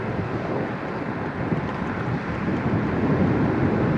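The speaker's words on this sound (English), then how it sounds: "It's getting windy." Steady wind rushes and buffets across the microphone while riding a vintage Elektracycle eBike, a constant loud roar with no talking.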